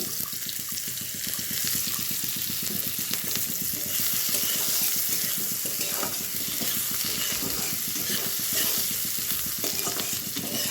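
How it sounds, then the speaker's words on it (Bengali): Chopped onions sizzle in hot oil for a mixed vegetable and small fish dish, with steady broadband frying hiss and rhythmic stirring scrapes throughout, close and fairly loud with no talking. "ওই তেল দিয়ে রান্না করছি এখানে আমার পেঁয়াজ কুচিগুলি আছে এই পেঁয়াজগুলি দিয়ে দিচ্ছি"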